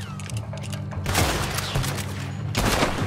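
Red Dead Redemption 2 gunfire erupts in rapid bursts, sharp and loud, with a dense volley followed by a short lull and another burst near the end.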